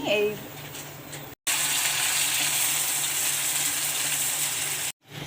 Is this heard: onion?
yes